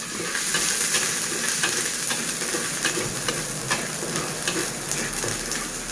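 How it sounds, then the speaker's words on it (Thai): Loud, continuous sizzling and frying with scraping stir sounds as frog meat is tossed in a hot wok, close up. "อันนี้ผัดกบนะครับ เป็นการผัดกบนะครับ"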